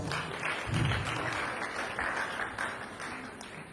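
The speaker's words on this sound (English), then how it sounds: "Can you clap for yourselves?" A small audience claps for themselves after answering quiz questions correctly at a tech event for women, a soft, steady patter of scattered hands lasting a few seconds.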